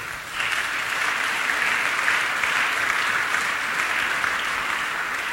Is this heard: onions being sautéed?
no